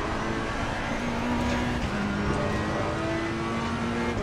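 Ferrari race car in Assetto Corsa Competizione, engine droning steadily with a rising pitch as it accelerates out of a corner, constant and close throughout with no talking.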